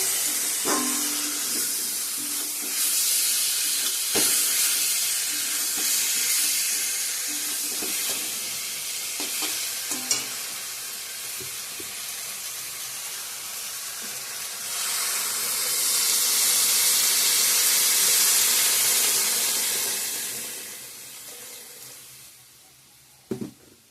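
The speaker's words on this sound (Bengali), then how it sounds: "এখন জল দিয়ে দেবো" Water poured into a hot pan of frying ridge gourd, potato and aubergine curry, setting off a strong hiss of sizzling steam that swells loudly midway, then fades, with occasional utensil clinks.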